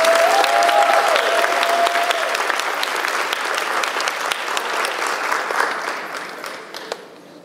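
Audience applause fills a funeral service awards breakfast, a dense, steady clatter of many hands that carries on for several seconds before thinning and fading toward the end.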